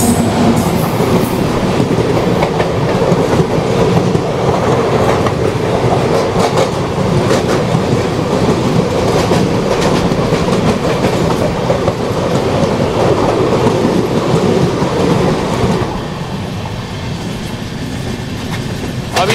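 Narmada Express hauled by a WAP7 locomotive with ICF coaches running on the tracks, a loud, steady rumble with rhythmic wheel clatter throughout that eases slightly near the end.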